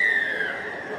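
At a schoolgirls' rugby league match, the referee blows one sharp, steady whistle that sounds near and clear, then fades a little toward the end over faint open-air background.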